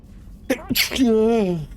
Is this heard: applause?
no